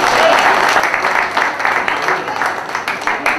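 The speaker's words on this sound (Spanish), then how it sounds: "un aplauso al Señor Jesucristo" Applause from a church congregation at a pastors' gathering, a broad burst of many hands clapping that starts loud and gradually thins and fades over a few seconds.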